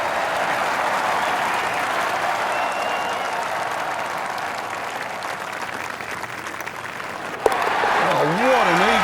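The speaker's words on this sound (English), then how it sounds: "Crowd's going wild out there." Golf gallery in EA Sports PGA Tour cheering and applauding an eagle, a sustained roar of clapping and crowd noise that swells and continues, with a commentator talking over it near the end.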